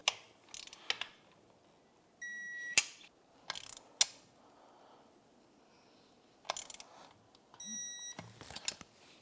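Ratchet clicks from torquing the engine bracket bolts on a 2005 Honda CRF450R, crisp and close, coming in short bursts with pauses between them and a few faint beeps mixed in.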